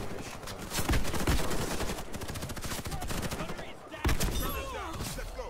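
Rapid gunfire in the shooter game Warface, with dense bursts of close, loud shots running almost continuously, a brief lull, then another sharp volley.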